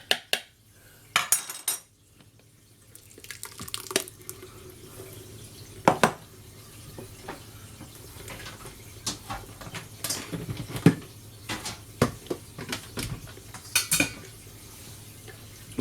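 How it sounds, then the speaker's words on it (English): Cherry tomato soup worked through a sieve, with scattered metallic scrapes and clinks of a spoon against mesh and pot, interspersed with wet sloshing and soft pauses, close and moderately loud. "Just put it through a sieve"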